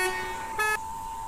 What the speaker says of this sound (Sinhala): මේකේ පට්ට හෝන් සෙට් එකක් තියෙනවා හෝන් 6ක් විතර තියෙනවා